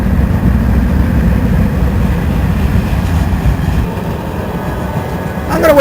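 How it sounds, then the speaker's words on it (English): A passing train makes a loud, continuous rumbling roar close by, steady for several seconds and easing slightly toward the end, with a brief squeal at the close. "I'm gonna wait for the train to go past and then I'll continue."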